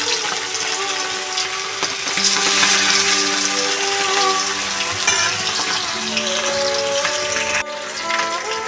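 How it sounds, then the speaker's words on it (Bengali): Pieces of catla fish fry hard in hot oil until reddish, a loud, dense, continuous sizzle that holds steady throughout with a few brief pops and shifts. "তাই আমি একটু কড়া করে মাছগুলোকে ভেজে নেব"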